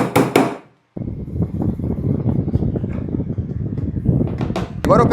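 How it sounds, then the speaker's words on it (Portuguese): Wooden dowels being fixed to join flat-pack furniture kit panels: a run of close dull wooden knocks and rattles after a short pause, with a person talking at the start and again near the end. "vamos fazer a fixação das cavilhas para unir com a outra peça que acabamos de montar"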